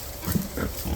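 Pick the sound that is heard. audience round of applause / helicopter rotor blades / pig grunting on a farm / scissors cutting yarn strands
pig grunting on a farm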